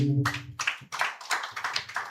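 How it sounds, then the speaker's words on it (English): An audience at a young voices conference claps for a performer, uneven bursts of hand claps that swell and dip over a couple of seconds, close and moderately loud, with a brief voice at the start. "Can you please clap for Chiago?"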